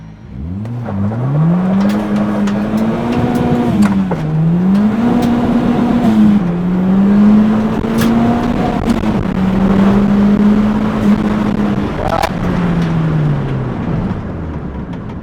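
A K-swapped EG Honda Civic with a K23 turbo engine accelerates down a track. The loud, sustained engine tone climbs, dips briefly, then holds high before easing off near the end, with no talk.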